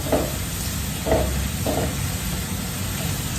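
Garlic frying in oil until brown for a sampaloc dipping sauce, a continuous broad sizzle with three soft stirring strokes near the start, close and even.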